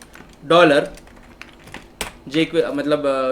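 Computer keyboard keys clatter in scattered clicks while code is typed, heard between and under a man's speech.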